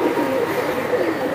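Pigeons kept for sale coo in a low, steady, rolling murmur that runs continuously and close by, with no clear pauses.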